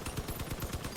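Weapon fire from a vehicle in the post-apocalyptic combat game Crossout comes as a quick, dense burst of rapid, loud repeating reports lasting about a second.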